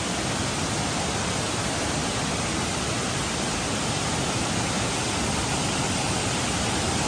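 Tat Sae waterfall near Luang Prabang pours steadily, a broad continuous rush of falling water that fills the whole stretch without pause.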